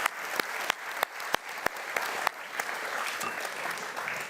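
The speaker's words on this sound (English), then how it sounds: "can I have a round of applause for this panel?" Audience members at a panel discussion clap for the panelists, beginning with a few sharp, distinct claps and thickening into steady, fairly soft applause in the room.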